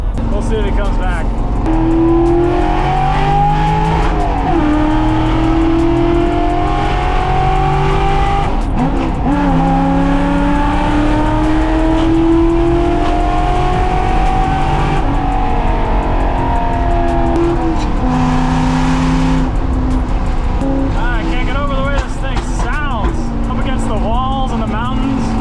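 A NASCAR-inspired Ford F100 truck with a V8 engine revving hard as it climbs a mountain road, its loud, continuous engine note rising and falling through gear changes, with a person talking over it.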